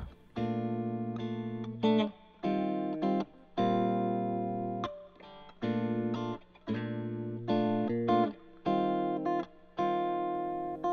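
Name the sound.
guitar through Kustom Kasino Lounge amp spring reverb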